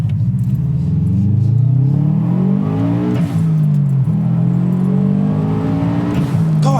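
A Subaru WRX STi bug-eye with a JDM EJ207 engine revs freely while driving, its loud engine note rising and falling through repeated climbs in pitch with gear changes, constant and close inside the car.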